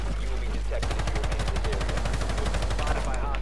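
Rapid automatic gunfire in a shooter video game, a steady burst of evenly spaced shots lasting about two seconds over a loud, constant low rumble, with no voices.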